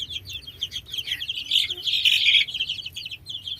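Young chicks of a two-way cross breed cheep continuously in their pen, a dense stream of high, rapid peeps from several birds close by, swelling louder in the middle, with no talking.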